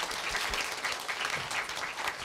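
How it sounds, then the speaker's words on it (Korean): Steady applause from a crowd at a student speech festival, a dense wash of clapping at moderate volume that continues throughout. "힘찬 박수 부탁드리겠습니다"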